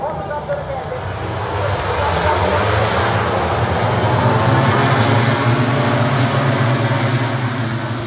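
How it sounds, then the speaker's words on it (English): MotoGP race motorcycles recorded on a phone at a race and played back, giving a continuous loud, harsh engine roar with crowd-like wash that swells and stays dense throughout. "here is a fully zoomed video when I attended a MotoGP race the previous year"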